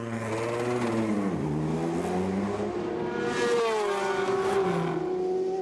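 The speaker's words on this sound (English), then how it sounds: "the number 27 car, after a 16-minute pit stop, is ready to leave the pit lane" An LMP2 race car at the 2014 6 Hours of São Paulo accelerates out of the pit lane, its pitch climbing through gear changes in a loud, continuous whine nearby.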